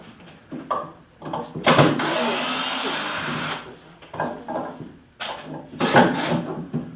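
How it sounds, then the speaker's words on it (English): A power drill unscrews the legs from a school-built wooden catapult in short bursts, whirring loudly for a couple of seconds between clunks and tool handling, with quiet background noise. "let me get the drill and we'll take the legs off"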